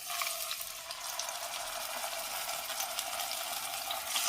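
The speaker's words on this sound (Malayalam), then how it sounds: "ഞാനിപ്പോൾ ആദ്യം കാല് രണ്ടുമാണ് വറുത്തെടുക്കുന്നത്." Chicken legs shallow frying in well-heated oil in a covered pan, a steady close crackling sizzle with dense hiss and tiny pops running unbroken throughout, no voices.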